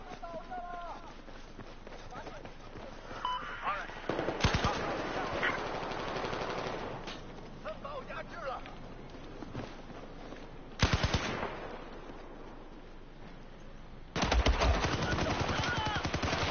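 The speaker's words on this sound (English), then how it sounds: "I'm gonna be using the Type 88 LMG" A Type 88 LMG fires in Battlefield 4 in several sustained automatic bursts, loud and rapid, with pauses of softer game ambience between them.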